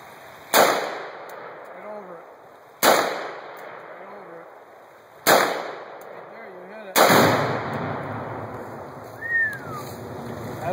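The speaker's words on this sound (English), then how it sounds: "Seth's getting ready to explode some tannerite on a beaver dam we've already taken out" Tannerite charges exploding on a beaver dam outdoors, four sharp loud blasts spaced a couple of seconds apart, the last one longer and rumbling, with a faint voice-like chirp afterward.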